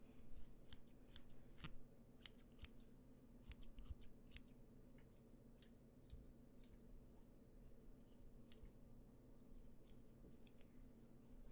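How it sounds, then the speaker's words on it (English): Scissors snipping hair in close, intimate ASMR style, with crisp irregular clicks and snips repeating throughout over a soft, faint background hum. "Okay, I'm gonna start cutting now,"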